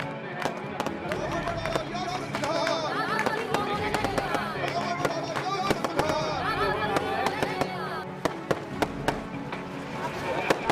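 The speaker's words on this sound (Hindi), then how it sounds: "आतिशबाजी के साथ रावण का कुनबा राख होने लगता है।" Fireworks crackle and pop in repeated sharp bursts during the Ravana effigy burning at a huge Dussehra mela, over a dense, cheering crowd and music.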